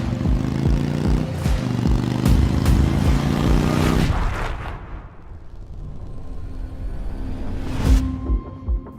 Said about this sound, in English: you just twist the throttle and this thing will rev to the moon